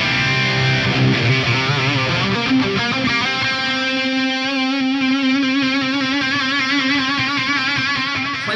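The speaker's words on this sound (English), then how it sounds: "This is a PRS McCarty and it sounds like this." A PRS McCarty electric guitar played through an Axe-Fx USA lead amp model with feedback simulation: loud, distorted sustained notes and chords that bloom into a long singing held tone, with no talking.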